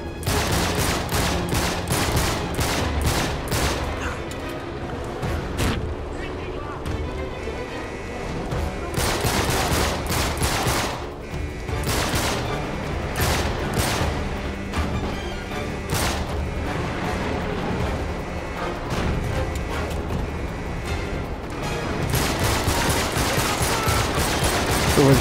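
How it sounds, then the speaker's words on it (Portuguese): Sustained gunfire from a shootout in the video game Uncharted 3: dense bursts of rapid shots and fusillades, loud and continuous, with brief lulls between volleys. "Eu vou distribuindo tiro, filho."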